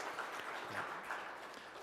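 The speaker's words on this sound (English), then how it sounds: "So how about a round of applause for you as well." Applause from a church congregation at a Mennonite annual general meeting, a steady wash of many hands clapping together, moderately distant and sustained through the short moment without talk.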